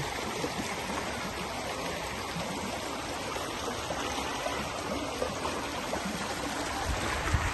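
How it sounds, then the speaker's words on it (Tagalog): A steady, rushing flow of water, like a river stream running over rocks in the countryside, continuous and fairly close with no voices. "may ilog na dito, oh. Ilog ng tubig"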